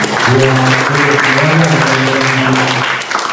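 A crowd applauds loudly and steadily at the outdoor opening ceremony of a Scout camp at a vocational high school. A voice carries over the clapping until the applause thins out near the end.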